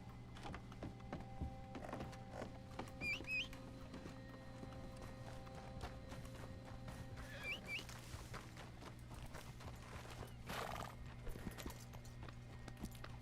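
A Shire horse in the Red Dead Online video game walks with soft, regular hoof clops, a couple of faint whinny-like calls rising above a low steady game hum.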